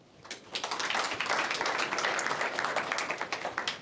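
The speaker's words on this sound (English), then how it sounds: "Let's give a warm round of applause for Ruma Samdani." Warm applause from a room of founders and guests at a startup demo event, dense steady clapping that swells in quickly and holds at full strength for a few seconds.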